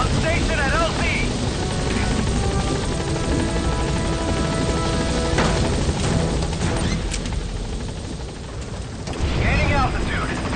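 Pequod helicopter hovering at a landing zone in Metal Gear Solid V, a loud steady rotor roar and engine drone filling the scene with radio voices talking over it.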